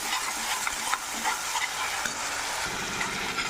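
Ginger garlic paste sautéing in a pan for a lentil dumpling curry, giving a steady, close sizzle and frying hiss with occasional stirring scrapes throughout, and no voices.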